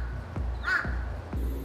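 A crow that harasses passers-by in a city lets out one harsh, fairly close caw over a low, rhythmic thumping background.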